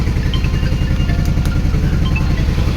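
A motorcycle engine runs loud and close in a steady, throbbing idle-like rumble with a fast regular pulse, alone and unbroken throughout.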